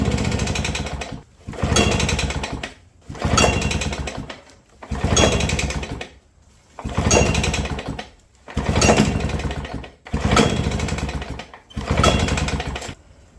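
A pre-1958 two-stroke lawn mower, started on partial choke, runs in loud rough bursts about every 1.5 seconds, surging and cutting out over and over in a steady pulsing pattern with no voices.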